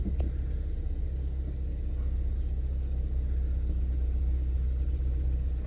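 A 2013 Ford Escape backing up in reverse, a low steady engine rumble close by with an even, unchanging tone throughout and no talking.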